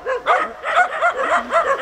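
Several dogs bark and yip in quick, overlapping bursts, fairly close and loud, with some whiny, high-pitched yelps mixed in.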